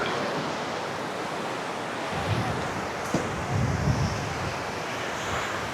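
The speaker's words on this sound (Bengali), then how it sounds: "এই দেখেন কত বড় ঢেউ আসতেছে" Ocean waves break at Kuakata beach, a continuous roar of surf mixed with gusty wind buffeting the microphone, swelling slightly a few times as larger waves come in.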